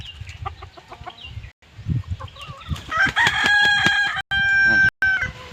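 A rooster crows loudly nearby in a long, rising call, preceded by a few clucks and softer bird sounds.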